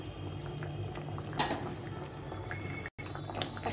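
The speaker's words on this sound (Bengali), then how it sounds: "মাছটা দিয়ে একটু ফুটিয়ে নেব।" Fish simmers in a boiling milk-based curry with taro, giving a quiet, steady bubbling and soft liquid burble heard close up with no voices.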